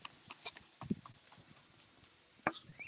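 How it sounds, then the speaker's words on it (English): A chef's knife taps and rocks on a chopping board while chopping garlic in a cookery school demonstration, giving a scattered run of sharp, close knocks with irregular gaps and a louder strike near the end. "Again, I'm rolling the knife through there."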